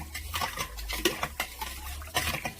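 Teaspoon stirring salt and sugar substitute into water in a pot or bowl for boiling corn, giving repeated light metallic scrapes and clinks at close range, with no talking.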